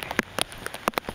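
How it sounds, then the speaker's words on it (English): Rain during Hurricane Isaac in southern Alabama, with scattered drops hitting close by in quick irregular taps over a steady background hiss. "the lens keeps getting rain on it"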